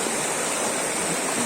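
A cold village river in Nepal rushes steadily and close by as someone wades across it on foot, a continuous dense roar of flowing water.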